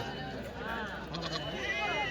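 Male goats bleat at a busy goat market, wavering cries that carry over steady crowd chatter and nearby talk.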